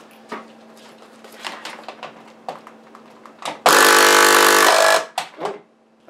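A repaired Hailea air pump with 3D printed Ninjaflex and latex parts is switched on, giving a loud, steady buzzing hum for about a second and a half between quieter clicks and handling noises.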